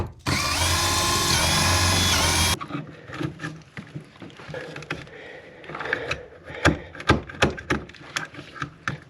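A power drill bores holes for conduit in a solar-powered off-grid shed in Arizona, one loud sustained whine up close that stops abruptly, followed by scattered clunks and handling knocks.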